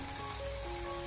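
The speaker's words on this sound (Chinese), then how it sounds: "再把腌制好的肉片放进锅中，开中火给它翻炒一下， 用锅铲给它不停的翻炒" Marinated pork slices stir-frying over medium heat in a wok, tossed constantly with a spatula, giving a steady close hiss and sizzle with no talk.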